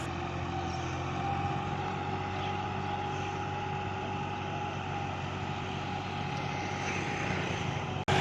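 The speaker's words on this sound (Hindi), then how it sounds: "जो ट्रैक्टर है उसको खेत में चला रहे हैं" A tractor works through a flooded rice paddy field, its engine a steady, droning hum with a constant pitch that holds for several seconds before a brief bump at the end.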